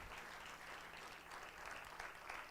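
A church congregation claps steadily at a Sunday service, a dense, even wash of applause that holds from start to end.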